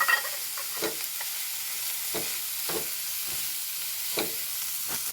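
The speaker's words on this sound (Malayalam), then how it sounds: "എടുത്തു വെച്ച ഉള്ളി ഇട്ട് കൊടുക്കാം ഇളക്കി കൊടുക്കും" Chopped onions frying and being stirred in a pan, a steady sizzle with scraping stir strokes recurring every half second to second, close and continuous.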